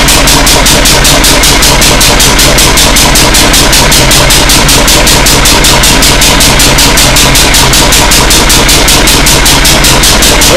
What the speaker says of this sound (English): Quite a loud engine, as you can hear. The exhaust is very loud.